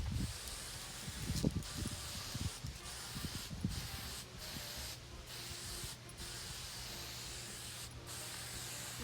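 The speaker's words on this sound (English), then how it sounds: "So I'm just gonna spray this over from this way" Spray can hissing in several bursts of broadband noise, steady and fairly close, with short pauses between sprays.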